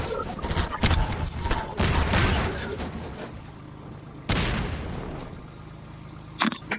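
Barrels exploding in the video game Half-Life 2, heard as heavy booming bursts with loud onsets, a long rumbling decay, and a further blast a few seconds later.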